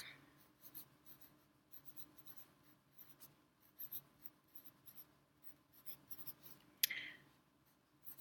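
Pencil scratching and tapping on paper while drawing base-ten blocks for a subtraction lesson, with short strokes for tens sticks, quiet and close with irregular rhythm and one sharper tap near the end.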